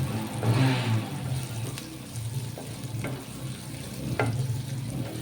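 Coarsely crushed peanuts fry in a pan, making a steady low sizzle with occasional spoon scrapes and clinks as they are stirred.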